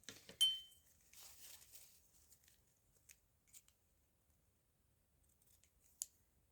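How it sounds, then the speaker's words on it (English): Scissors snip through ribbon at an angle, with one sharp close cut and a few lighter snips and clicks that follow, quiet in an otherwise still room. "An angle cut helps stop ribbon from fraying, so I'm going to give an angle cut on both ends."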